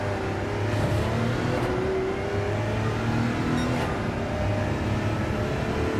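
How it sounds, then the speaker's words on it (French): Race car in Gran Turismo 7 at Le Mans accelerating at full throttle out of a hairpin, a steady, loud engine drone holding continuously for the whole stretch with no talk. "je réaccélère à fond"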